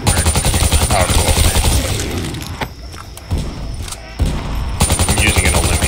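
An Olympia shotgun fires again and again in Black Ops III Zombies, a video game. The shots crack in quick bursts, briefly thin out partway through and then resume, with voices talking over them.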